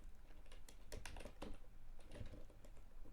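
Close, quiet keystrokes on a computer keyboard come in short uneven bursts with pauses between them, with no talking.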